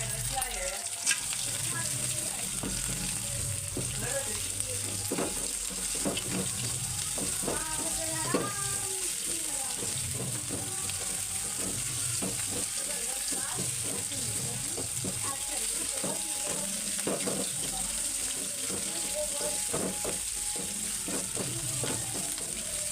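Onions and green chillies frying in a little oil in a pan, a soft steady sizzle with intermittent stirring scrapes, faint background sounds mixed in.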